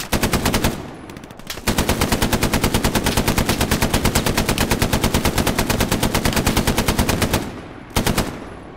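Sustained machine gun fire in the World War II video game Hell Let Loose, a loud, rapid and evenly paced stream of shots. The stream breaks off once early on and resumes, then ends with a few final bursts.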